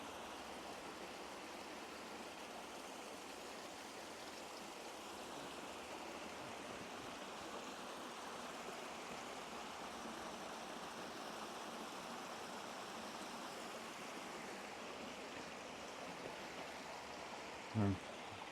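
A creek beside a hiking trail in Duluth, Minnesota, rushes in a steady, broad wash of flowing water throughout, fairly close, with a brief knock near the end.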